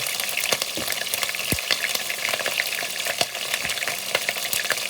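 Peanut sauce fish curry frying in a pan, a steady close sizzle with scraping stirring strokes and occasional soft clunks of the spoon against the pan.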